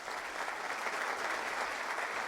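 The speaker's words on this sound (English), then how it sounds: "Round of applause." A studio audience applauds a market-commentary show, a rather subdued but unbroken wash of many hands clapping at an even level.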